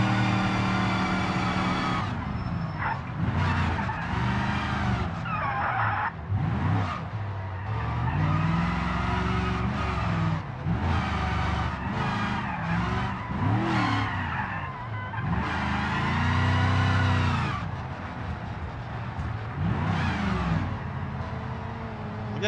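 Cars in the BeamNG driving game race past on a freeway, engines swelling and fading in repeated passes, with tires squealing and skidding between loud, close bursts of revving.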